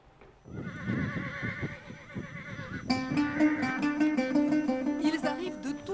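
Horses neighing and whinnying close by at a Moroccan Fantasia, a simulated combat display with horses, with a long whinny rising over hoof clatter and crowd noise.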